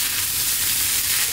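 Rice fries in a hot pan with cauliflower and curry powder, giving a steady, close sizzling hiss with faint crackle, continuous and even throughout with no talking.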